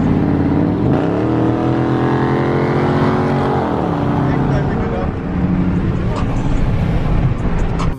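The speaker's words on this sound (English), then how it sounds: "I like the fact that my car can get up and go and beat most other cars." A 392 Scat Pack car accelerates hard, its engine roaring loud and close with a rising pitch before settling into a steady, heavy drone.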